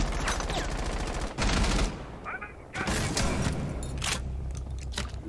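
Bursts of rapid gunfire in the tactical shooter Rainbow Six Siege, loud and close, with short pauses between volleys and an explosion-like boom partway through, while players talk over the action.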